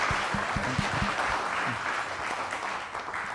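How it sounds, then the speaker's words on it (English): An afternoon audience at a Small Business and AFRL event applauds a presenter named Ted, a full, steady burst of clapping with a few low thuds early on, holding its level to the end. "Let's give Ted another round of applause."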